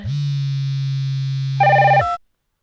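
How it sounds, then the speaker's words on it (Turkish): A telephone rings loudly and alone: a steady low electronic tone holds for about a second and a half, then a brighter warbling ring bursts briefly before cutting off into silence. "Aa, telefon çalıyor."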